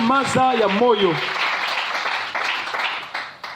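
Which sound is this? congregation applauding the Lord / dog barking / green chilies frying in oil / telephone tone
congregation applauding the Lord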